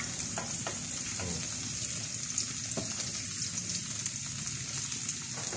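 Onions sautéing in a pan, a constant moderate sizzle and crackle with occasional soft scrapes of stirring, steady throughout and no voices over it.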